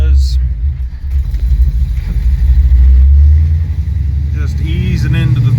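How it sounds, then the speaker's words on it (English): An LT1 V8-swapped El Camino pulls away in first gear, its deep engine rumble loud and close as it builds and surges, with a voice talking briefly over it. "here I'll show you what first gear does"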